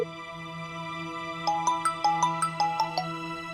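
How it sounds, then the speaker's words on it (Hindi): A quiet electronic phone ringtone plays a short run of bright, evenly spaced melodic beeps over a faint steady hum, with no one answering. "पुलकित सर फोन क्यों नहीं उठा रहे?"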